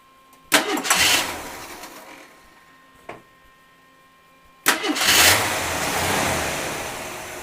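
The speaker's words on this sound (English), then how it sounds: "start the car, please" An AMC 258 inline-six car engine with automatic transmission being started: a brief crank catches at once, a short second burst follows, then a third start settles into a steady idle. The idle is loud, close and broad, with no talk over it.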